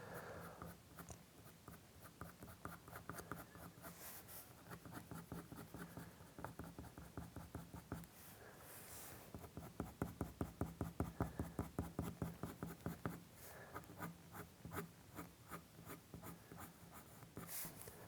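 Red and brown coloured pencils shading on paper: continuous close, dry scratchy strokes in a rapid back-and-forth rhythm, with brief pauses and a burst of faster, harder strokes midway.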